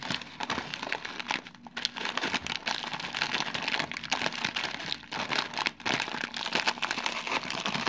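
Plastic packaging of a juice kit holding baobab powder and bark being opened, with continuous loud crinkling and crumpling close by for several seconds and no speech.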